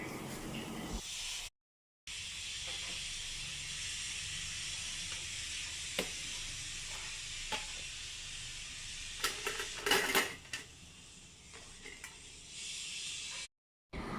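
Banana fritters frying in hot coconut oil give a steady, even sizzle and hiss throughout, with a few light clinks as pieces are scooped out near the end; no talking is heard.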